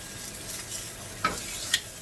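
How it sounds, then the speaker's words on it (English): A T-bone steak sizzles in a hot pan, a soft steady hiss with two sharp scrapes and clanks as it is turned over, close and unaccompanied by talk. "Alright, so now I'm going to flip my steak."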